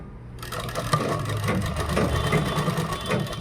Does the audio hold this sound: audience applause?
no